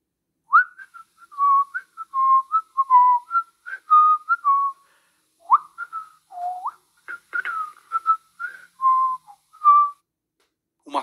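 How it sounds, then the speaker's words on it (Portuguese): A person whistles a wandering, improvised tune in short phrases with brief pauses, clear and close, with no other sounds. "Alguém assobiando uma melodia improvisada."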